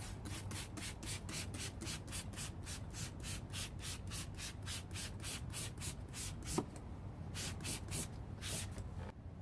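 Rapid rhythmic rubbing of a cloth wiping all-purpose cleaner across a C5 Corvette's surface, steady back-and-forth strokes up close with no talking.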